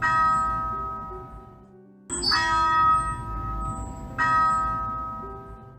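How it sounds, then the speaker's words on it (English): A campus bell at Quincy College rings out in three resonant strokes spaced about two seconds apart, each leaving a long, slowly fading hum. "bell rings regularly on the Quincy College campus"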